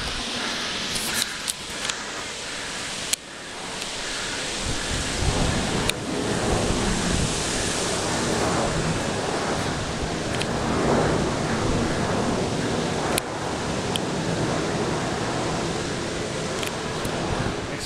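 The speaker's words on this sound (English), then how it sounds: "Let's get to the top of this damn waterfall." A waterfall on the Ellis Brook Valley trail rushes loudly and steadily up close, a dense broadband roar with some wind buffeting the microphone.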